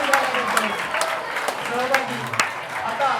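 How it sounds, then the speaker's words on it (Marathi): An audience at a school talent hunt exam prize distribution applauds students in a short burst of brisk, dense clapping, with a voice speaking over it. "यांच्यासाठी जोरात टाळ्या वाजवायला."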